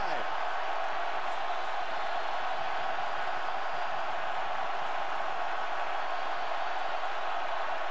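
A college football stadium crowd roars during West Virginia versus Baylor, a dense, steady wash of cheering held at an even level throughout.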